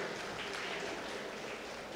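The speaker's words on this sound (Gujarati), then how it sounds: "ખરેખર તાળીઓના ગળગળાટથી આ પરિવારને વધાવી લેશો" An audience at a community mataji celebration welcomes a family with a continuous, even wash of clapping, fairly distant and steady.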